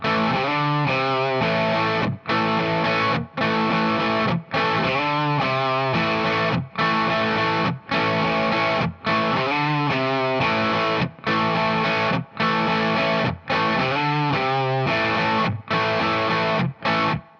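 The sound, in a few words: distorted electric guitar playing a riff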